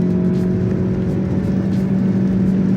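A 2023 Lexus ES 300h F Sport hybrid engine revs hard toward redline, a steady, strained drone with a whirring tone heard close from inside the cabin.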